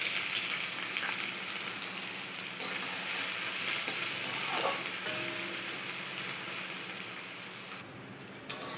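Chopped onion frying in oil with cumin, cardamom and cinnamon, giving a steady close sizzle with crackling and faint stirring scrapes, continuous and fairly quiet.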